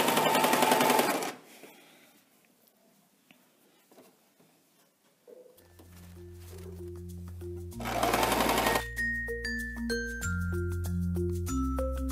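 A sewing machine stitches a seam onto elastic while sewing a ruffled gypsy-style blouse, running in loud bursts at the start and again near eight seconds, with quieter handling between and a steady tonal hum through the second half.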